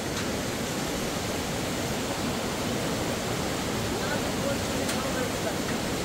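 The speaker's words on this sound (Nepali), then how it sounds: "कल आउँदो खोला बग्दैछ" A cold mountain river on a trek in Rukum, Nepal, rushes in a continuous, dense wash of broadband roar, steady and enveloping with no pauses or distinct splashes.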